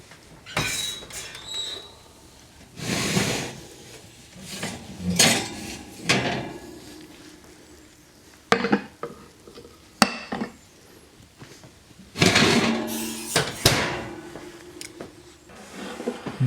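A spaghetti squash and chicken Alfredo casserole dish is lifted out of an oven, with clattering and knocking of bakeware, a squeak and scattered clunks in loud bursts separated by quiet gaps.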